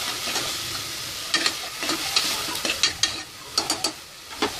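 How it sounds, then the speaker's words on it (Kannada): Ginger garlic paste fries in a pan with a soft constant sizzle, punctuated by repeated sharp scraping strokes of a spoon that grow more frequent toward the end. "ಈಗ ಶುಂಠಿ ಬೆಳ್ಳುಳ್ಳಿ ಪೇಸ್ಟನ್ನು ಸೇರಿಸ್ತಾ ಇದ್ದೀನಿ. ಚೆನ್ನಾಗಿ ಫ್ರೈ ಮಾಡ್ಕೊತಾ ಇದ್ದೀನಿ."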